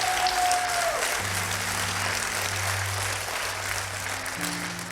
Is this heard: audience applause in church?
yes